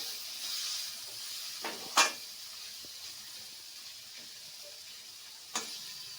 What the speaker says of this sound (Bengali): ভালো করে একটুখানি সাঁতলে নেব